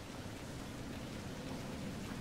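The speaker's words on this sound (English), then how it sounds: "Here comes the rain." Steady rain hisses in Resident Evil Revelations 2, a dense, even wash of falling drops with no breaks, moderately loud and alone without voices.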